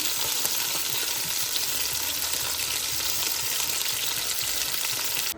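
Continuous close-up sizzle of chicken frying in a pan, an even crackling hiss throughout with no talking.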